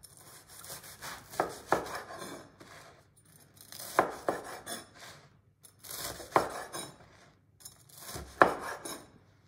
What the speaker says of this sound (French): J'enlève la croûte.